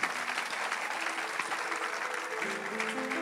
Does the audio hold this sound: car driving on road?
no